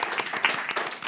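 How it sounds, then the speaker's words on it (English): Audience clapping for panelists at a Finno-Ugric open forum, a short burst of dense, steady applause from a modest crowd, moderately loud and without talk. "Let's have this applause for you."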